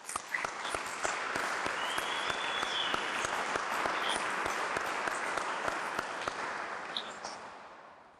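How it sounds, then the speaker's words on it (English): An audience at a town State of the Town address applauds the municipal workforce, a steady, even wash of many hands clapping that holds for several seconds at moderate distance, with no talk over it. "If I can get a round of applause for our workforce."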